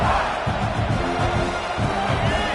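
Stadium crowd at a football game roaring and cheering in a big moment, a loud continuous wash of many voices with rhythmic surges, broadcast-style.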